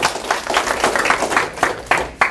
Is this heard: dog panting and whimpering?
no